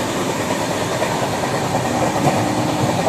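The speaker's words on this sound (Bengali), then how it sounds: "মালগাড়ি" A freight train rolls past on the neighbouring track, a close, loud rumble with rhythmic wheel clatter and rushing wind noise that fills the whole short stretch.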